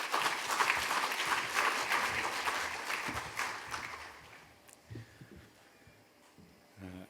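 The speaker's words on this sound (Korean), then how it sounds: "우리 큰 박수로 환영하시겠습니다." A church congregation gives warm, full applause in a sanctuary during a year-end special early-morning prayer service as a guest pastor comes forward; the clapping is strong for about four seconds, then fades and thins to a few last claps and quiet.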